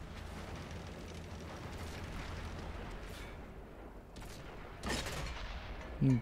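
Tank cannon fire and battlefield rumble in World of Tanks on Xbox One, a continuous low roar with a sharper boom near the end and a brief loud burst at the close, no talking.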